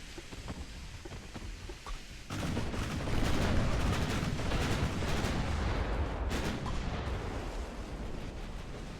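Naval guns in Ultimate Admiral: Dreadnoughts, with secondary batteries firing from a warship, make a dense, continuous rumble of overlapping gunfire and blasts that swells after a quieter opening and stays loud throughout.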